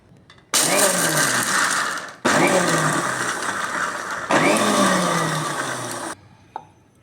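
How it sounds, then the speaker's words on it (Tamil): A mixer grinder pulsing toor dal, three loud whirring bursts of a few seconds each with abrupt stops between, close up, followed by a small clatter. "இப்போ இதை எடுத்துகிட்டு துவரம்பருப்பையும் அதே மாதிரி பல்ஸ் மோடில் போட்டுறேன்"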